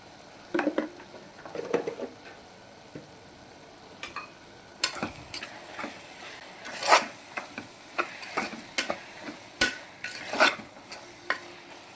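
Mutton keema with spinach being stir-fried in a pan: soft sizzling under repeated scraping and clacking strokes of a spatula, irregular bursts close by, no talking.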